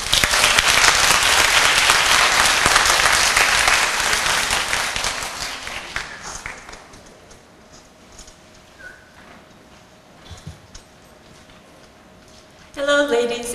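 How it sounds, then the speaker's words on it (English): An audience at a summer teachers' workshop gives a dense, loud round of applause to welcome a presenter, holding for about six seconds before fading into quiet room noise and light shuffling. "Please welcome her with a round of applause."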